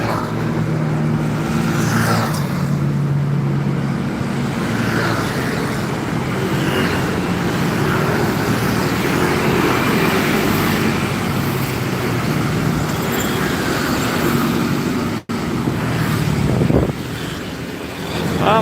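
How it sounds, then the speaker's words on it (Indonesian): Speeding bus on a road, a loud, sustained roar of engine and rushing wind that swells and fades as traffic passes, ending in a brief drop. "Kita rekam bis yang ngebut."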